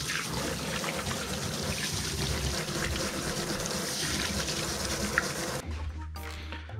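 Tap water runs steadily from a kitchen faucet while hands are washed during roll cabbage preparation, a continuous close splashing flow that cuts off near the end, leaving a brief quieter tail.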